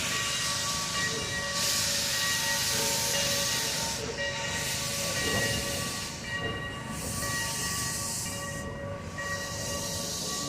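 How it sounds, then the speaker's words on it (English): Steam locomotive pulling a reproduction of the Lincoln funeral train, backing the consist along the rails in a pushback, with steady loud steam hiss and rolling rail noise throughout and brief whistle-like tones. "The rear end of the train, we are doing a pushback."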